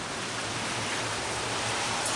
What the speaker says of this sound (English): It's raining good there now.